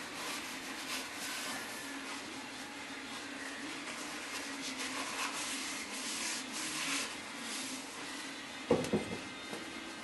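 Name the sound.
wiping down an engine cylinder bore with a cloth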